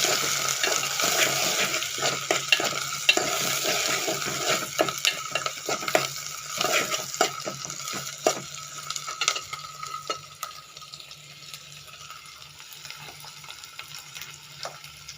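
Sliced onions fry with a little salt in a pan, giving a close, continuous sizzle broken by frequent scraping stir strokes that ease off and grow quieter toward the end.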